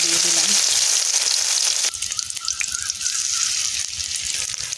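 Fish and vegetable fritters in an egg batter fry in hot oil, a loud bright crackling sizzle that drops abruptly about halfway to a quieter bubbling with light drips and spatters, close by and without speech.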